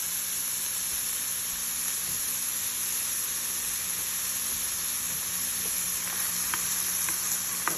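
Onions and garlic sautéing in butter in a skillet, a steady, even sizzle and frying crackle close by, with a few faint clicks near the end and no talking.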